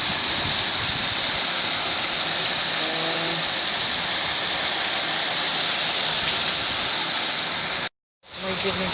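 Steady rain pouring down with gusting wind over garden flowers, a loud continuous hiss close by that breaks off sharply for a moment near the end.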